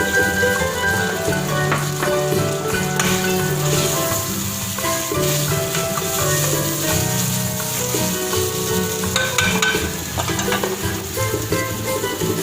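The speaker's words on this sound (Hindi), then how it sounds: "ये हमारे टमाटर जा रहे हैं फ्राई हो।" Tomatoes and bell peppers, including red capsicum, fry in a pan with a steady, loud sizzle that carries on without pause, with occasional stirring clatter on top and no voices.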